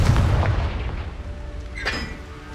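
A Confringo spell explodes in a video game, a low rumbling boom through the opening second followed by a brief brighter burst near the end, moderately loud with no talk.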